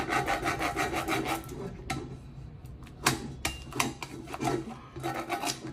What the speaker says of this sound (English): Go ahead and scrape it back out just a little bit.